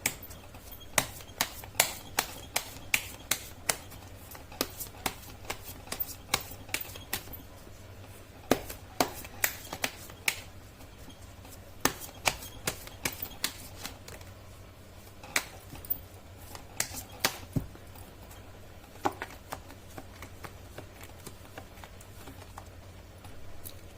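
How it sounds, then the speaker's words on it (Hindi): Tarot cards being shuffled by hand at close range, a long run of crisp, irregular slaps and flicks with short pauses between bursts, alone without any talking. "मैं कर लेती हूँ कार्ड की शफलिंग"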